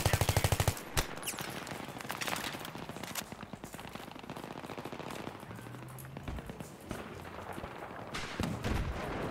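Gunfire rattles through a Battlefield 3 match on the Sharqi Peninsula map, with a loud opening burst of rapid automatic fire followed by ongoing volleys and scattered shots at varying distances.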